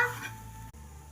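Prawns stirred with chilli powder and curry leaves in a pan, a soft scraping stir over gentle sizzling, close and steady, with a brief dip partway through.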